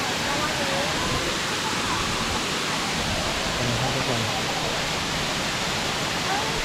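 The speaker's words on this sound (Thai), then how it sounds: "น้ำตก" Constant rushing roar of Khlong Lan waterfall in Thailand, dense and unbroken, with a voice faintly heard over it.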